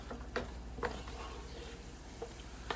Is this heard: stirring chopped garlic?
yes